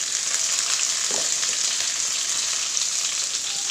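Dried red chillies, finely chopped ginger and garlic, and curry leaves frying in oil, a loud, dense, continuous crackling sizzle close by with no pauses and no voices.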